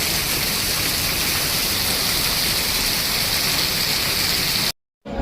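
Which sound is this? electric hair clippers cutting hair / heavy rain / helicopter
heavy rain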